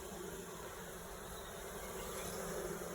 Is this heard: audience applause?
no